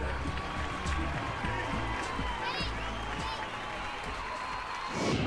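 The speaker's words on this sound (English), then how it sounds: "The crowd's going wild." A baseball crowd at a ballpark in Cincinnati cheers and applauds in a dense, continuous roar, with scattered whistles and shouts rising out of the wash of clapping.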